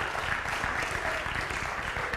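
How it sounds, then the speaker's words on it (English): Audience applause in a university lecture hall during a computer science talk, a steady, even wash of many hands clapping that holds at a moderate, slightly distant level throughout. "Give him a round of applause as he goes back to his desk."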